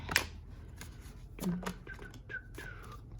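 Tarot cards being shuffled and drawn by hand, a few soft, close flicks and papery slides, quiet and sparse over a faint room background.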